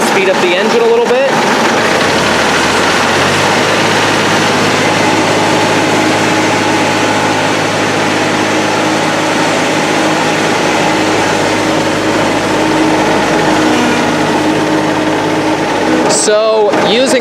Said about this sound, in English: we're going to speed up the engine a little bit.